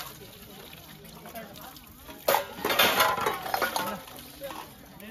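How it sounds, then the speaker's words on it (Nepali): Metal cooking pots and utensils clatter and scrape as they are handled and set aside during meal preparations at a puja gathering, close and irregular, with voices talking nearby. "भाँडाकुँडा उता राख्नु अब"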